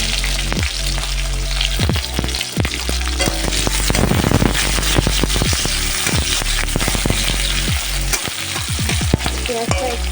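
Chopped onion and green chillies hit hot oil tempered with nigella, cumin and dried red chilli in a kadai, giving a loud, continuous sizzle with stirring scrapes and crackles throughout.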